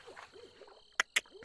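In the Real VR Fishing Halloween event, a devil bird lets out two sharp, close hoots in quick succession over a low murmur of softer bird-like calls.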